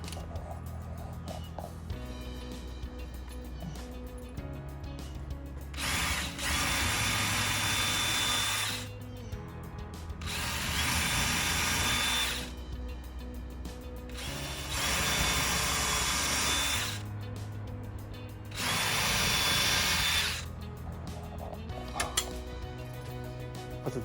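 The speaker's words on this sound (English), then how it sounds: "pre-drill our holes" A power drill whirs in four bursts of a few seconds each, pre-drilling holes for stainless steel screws in screen hardware, separated by quieter pauses with faint mechanical creaks and background hum.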